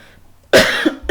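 A single close, sharp cough followed by a second shorter cough, after a moment of near silence.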